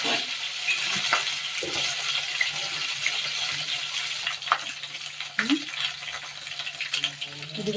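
Ground masala for a paneer curry sizzles and crackles in a hot pan, with intermittent stirring scrapes and clinks over a steady frying hiss.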